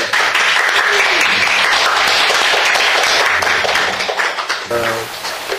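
Loud, sustained audience applause at a policy discussion forum, welcoming the head of a publishing house; steady clapping throughout that thins slightly near the end, where a voice briefly comes in.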